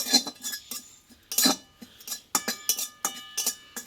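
Dried kasuri methi is dry roasted in a hot, empty kadai, with a metal spatula giving quick, irregular clinks and scrapes against the pan in close, sharp bursts.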